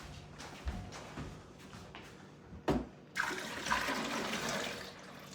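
Water pours and splashes into a coffee setup in a few short bursts, with a louder rushing stretch near the end, fairly close and with no talking.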